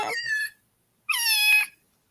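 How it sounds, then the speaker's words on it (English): Two separate meows from a domestic cat in a quiet house at night, the first short and the second longer and rising, both close and clear with silence between them. "The only one awake in the whole house, and you're coming to me meowing."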